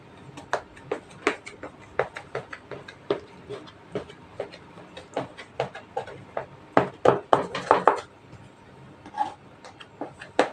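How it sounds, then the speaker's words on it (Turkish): A knife cutting through layered fake water börek (yalancı su böreği) in a tray, giving irregular sharp ticks and crisp taps, sparse at first and then clustering into quicker, louder cuts near the end, close and without talk. "Böreğimizi keselim şimdi."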